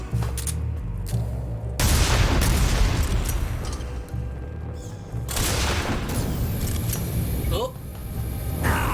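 Gunfire in the video game Metal Gear Solid 3: loud bursts of shots and booming blasts in clusters, with a dense volley around the middle and a short lull near the end.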